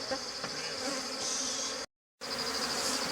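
A strong honey bee colony in a home hive buzzes loudly and continuously close by, a dense steady hum broken only by a brief silent gap.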